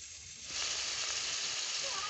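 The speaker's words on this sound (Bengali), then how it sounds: "এখন দিয়ে দিচ্ছি একটু তেল এখন আমি দিয়ে দিচ্ছি জল" Water hits a hot pan of spice-coated fish with oil, and a loud hiss of steady sizzling rises abruptly and continues, close up and alone.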